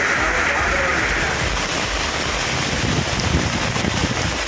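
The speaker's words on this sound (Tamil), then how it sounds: "தென்காசியில் இடி மின்னலுடன் கொட்டித் தீர்த்த கனமழையால் குளிர்ச்சியான சூழல் நிலவியது" Heavy rain pours steadily and loudly over Tenkasi, a dense continuous hiss of downpour with no distinct thunderclap standing out.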